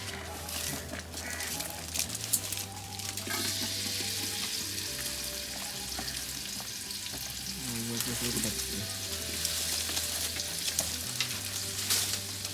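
Sliced onions frying in oil as beresta for village picnic biryani, a continuous hiss and sizzle with occasional stirring scrapes throughout and faint background sounds.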